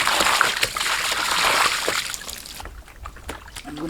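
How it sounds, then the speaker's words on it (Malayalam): Water splashes and sloshes loudly as raw chicken is rinsed for a honey alfaham mandi dish, then drops to quieter dribbles and clatter in the last stretch. "അപ്പോൾ നമ്മുടെ ചിക്കൻ നമുക്കൊന്ന് കഴുകിയെടുക്കാം കേട്ടോ."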